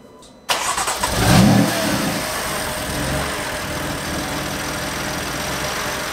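The BMW M3/M4 S55 engine, just back together after a valve cover and PCV valve replacement, fires up with a sudden roar, swells briefly, then settles into a steady, close idle with no voices.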